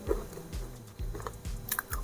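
Crunchy fork cookies (kue garpu) made from wheat flour being bitten and chewed up close, with a steady series of crisp crunches repeating roughly every half second, with no talking.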